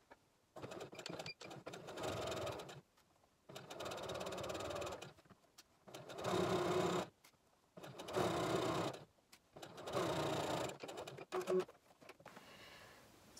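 A sewing machine top stitching through the layers of a fabric infinity scarf, running in five steady, close bursts separated by short pauses, with no voices.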